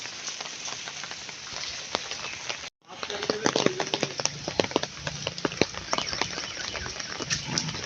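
On a rainy day in a village, rain patters as a constant broadband wash with scattered sharper drop ticks, briefly cutting out near the start before resuming.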